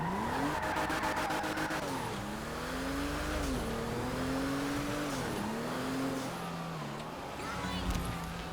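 An old classic car in GTA Online revs its engine repeatedly, the pitch climbing and dipping through several throttle pulls at a steady loudness, with someone talking underneath.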